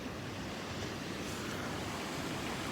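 Ocean surf at Belmar Beach near the jetties, a steady loud wash of waves breaking on rocks with broadband roar and some wind rumble, continuous with no voices.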